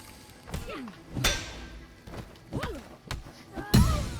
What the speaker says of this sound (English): You're going to toss the weapon at her.